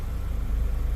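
Mazda CX-5 2.2 dual-turbo diesel engine running steadily just after a hard start, a continuous low rumbling idle heard up close with no voices.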